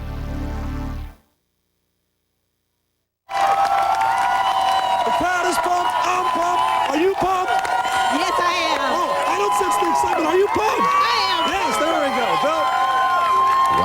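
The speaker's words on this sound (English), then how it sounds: "What a crowd." A large outdoor crowd cheers, claps and whoops in a steady loud roar after a brief moment of silence, with voices mixed into the noise.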